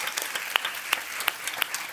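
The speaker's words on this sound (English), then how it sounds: "a round of applause" Applause from a tech conference audience, fairly faint and sparse, with a few distinct sharp claps standing out at regular intervals over a soft background of clapping.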